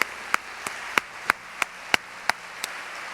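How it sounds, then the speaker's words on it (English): Slow, evenly spaced single claps, about ten sharp hits over three seconds, from an audience at a university women's conference, sounding sparse and fairly near with no talk. "Let's please show our appreciation with another round of applause for both of these outstanding women."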